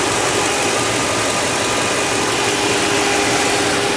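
The engine of a 2002 Toyota Sequoia idles smoothly, a constant close-up hum and whir that holds steady without revving.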